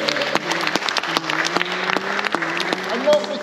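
Audience applause for Sarah, an organ builder at a heritage organ workshop, a dense burst of clapping hands that carries on through the whole moment, with a voice speaking over it.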